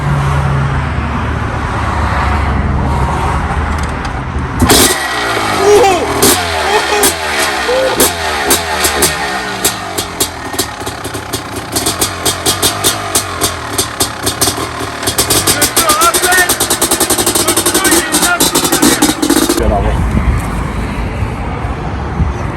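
A Honda 500 CR motorcycle, being brought back into running order, fires up after a quiet stretch and runs with a rapid, loud, rough two-stroke pulse that rises and falls before cutting off abruptly.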